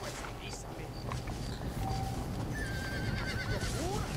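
A horse whinnies and neighs in Red Dead Redemption, its hooves clip-clopping close by under a steady bed of ambient game sound, with rising squeals near the end.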